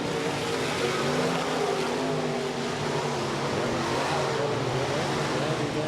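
USRA B-Modified race cars roaring around the track at Rapid Speedway during a heat race, a dense, steady engine drone heard from a distance with no break and no clear voices.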